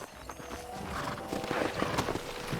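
Horse hooves gallop in the Western video game Red Dead Redemption, a steady drumming of hoofbeats with a brief whinny, moderately loud under ambient game sound.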